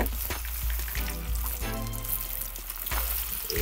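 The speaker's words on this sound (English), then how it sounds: "that thing frying right up" Steady, crackling sizzle of fish frying in hot grease, continuous and close, with occasional pops and faint bubbling throughout.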